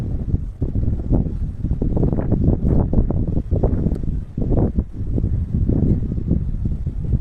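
Cold, gusty wind on a balcony buffets the microphone in uneven rumbling bursts, swelling and easing over several seconds with no voices.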